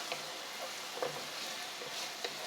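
Minced garlic sizzles in hot oil in a pan, a quiet, steady hiss with faint crackles and a few soft stirring clicks, close by and alone.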